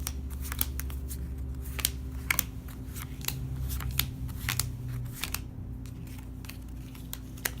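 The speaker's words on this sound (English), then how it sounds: "now we need to deal 4 cards each to each player" Exploding Kittens playing cards being dealt onto a table in a series of sharp, quiet snaps and flicks at an irregular rhythm, close up, with no talking.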